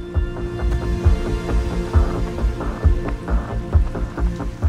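Steady rain falls outdoors during a holiday park run, pattering loudly and evenly with soft irregular thuds, with no voices over it.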